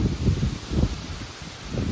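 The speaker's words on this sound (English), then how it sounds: "wow, it's windy" Gusty wind buffeting close to the microphone on a smallholding, a low rumbling roar that swells and fades in uneven bursts for a couple of seconds.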